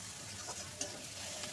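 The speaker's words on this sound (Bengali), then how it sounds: "খুব ভালো করে কষিয়ে নিয়েছি।" Spices and ginger garlic paste sautéing in a pan for a Katla fish head and cabbage chorchori, a quiet continuous sizzle with faint stirring scrapes, close up and alone.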